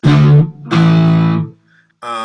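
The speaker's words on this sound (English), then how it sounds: "add some distortion to it" A violin played through heavy distortion, two long gritty sustained bowed notes and then a short buzzy burst, loud and close.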